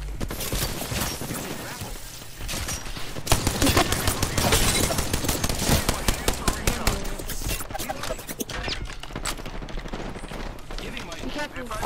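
Rapid gunfire from an Apex Legends fight crackles in dense bursts, close and loud, with sharp volleys repeating throughout and brief lulls between them, while players talk over the shooting.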